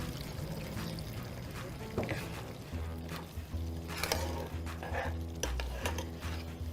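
Water is poured into a thick vegan kare kare, a Filipino vegetable stew in peanut sauce, then stirred through the pot, giving a steady close-up wet pouring and scraping sound with a few clinks.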